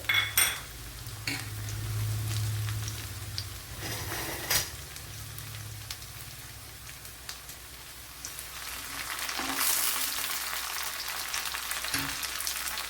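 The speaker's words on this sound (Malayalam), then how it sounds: "അതുപോലെ ഒരു ആറേഴ് വെളുത്തുള്ളി അല്ലി ഒരു രണ്ട് വറ്റൽമുളക്" Garlic cloves and dried red chillies, along with small shallots, fry in oil in a pan for an okra theeyal curry: a steady close sizzle with occasional stirring scrapes and clinks.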